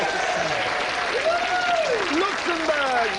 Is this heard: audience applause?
yes